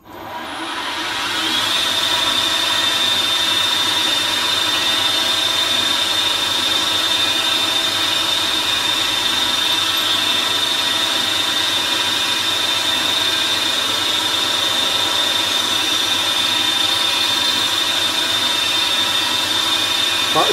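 A power drill grinds steadily through metal on a carburettor, with a constant high-pitched whine, loud and close, running without pause.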